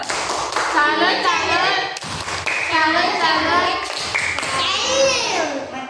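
Schoolchildren in a classroom perform the 'tepuk salut' routine, their young voices chanting together in a loud group rhythm punctuated by claps and taps.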